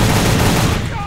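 Sustained AK rifle fire in the video game Soldier of Fortune: Payback, a dense, loud burst of automatic shots that fills the whole moment without pause and tapers slightly at the end.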